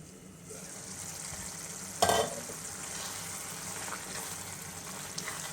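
Thick tamarind pulp simmering in a fenugreek leaf curry, a soft continuous bubbling sizzle with a brief louder scrape of stirring partway through, steady and close.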